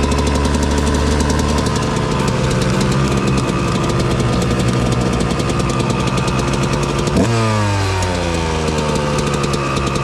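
Suzuki RM125 and Honda CR125 two-stroke dirt bikes running in a meadow, a loud close buzzing, crackling engine note that holds steady and then revs up sharply near the end.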